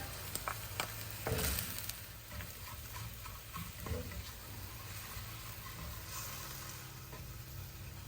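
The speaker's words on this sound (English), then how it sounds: "Next, we're going to add the vinegar, sugar, brown sugar," Vinegar, white sugar and brown sugar are poured into a hot pan of browned orange chicken pieces, making a steady, moderate sizzle with a brief louder burst of frying near the start and light stirring clicks throughout.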